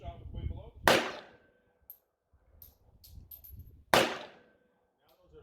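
Two loud, sharp gunshots ring out about three seconds apart at a Canadian and American shooting meet-up, each with a short echoing tail, with people talking quietly before and between the shots.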